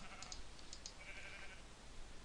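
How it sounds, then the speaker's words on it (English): Sheep in the Minecraft video game give a few short, thin bleats at moderate volume over a steady hiss, with no talking during the calls. "See, there's lots of sheep."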